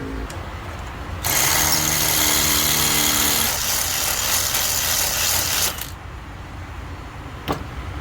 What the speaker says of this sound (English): But I need to drill the opening or the hole a little bit bigger.